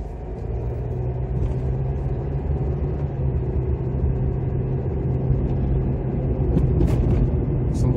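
A car engine idles and rumbles steadily with a rattling exhaust, a continuous close drone that stays level throughout.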